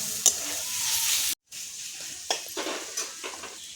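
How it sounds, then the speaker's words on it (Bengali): Spices and salt with turmeric frying slowly in oil in a pan for a Bengali banana flower curry with chickpeas, a close steady sizzle broken by a brief pause and a few stirring scrapes. "যতক্ষণ না মশলা থেকে তেল ছাড়বে ততক্ষণ আস্তে করে কষাতে হবে"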